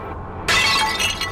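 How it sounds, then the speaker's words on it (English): Glass shatters suddenly in one sharp, bright crash after a quiet hiss. Tinkling fragments ring on for about a second, loud and close. "Ready to make that breaking glass sound effect noise?"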